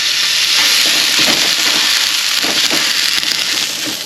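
Mince fries in a pan with a loud, close, continuous sizzle, broken up by bursts of scraping and stirring crackle as it is pushed around, with no talking.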